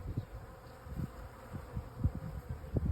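Honeybees buzzing at a homemade hive feeder, a low uneven drone with individual bees swelling and fading as they fly past nearby.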